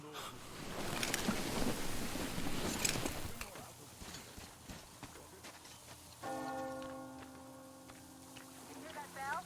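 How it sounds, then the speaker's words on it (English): A church-style bell tolls in a video game scene with rain and water ambience, the ringing tones entering in the latter part after louder splashing noise, with a voice speaking nearby. "You hear that bell?"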